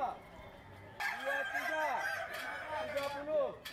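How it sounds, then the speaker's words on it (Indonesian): A kukuak balengge rooster crows with a long, stepped, tiered call that rises and falls in pitch, loud and close, filling most of the few seconds with a clucking lead-in. "Masing-masing ayam kukuak balengge ini memiliki irama khas dan bunyi kokoknya yang bertingkat atau"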